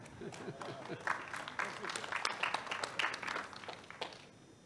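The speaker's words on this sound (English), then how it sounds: "You can all clap right now." Scattered, light clapping from a town hall audience, a few hands patting irregularly at a moderate distance, while people talk and laugh over it.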